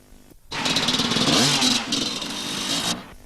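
A Husqvarna and a KTM enduro motorcycle race past spectators at a 1997 enduro championship round, engines loud and close, revving hard in a continuous roaring pass after a brief quiet lead-in.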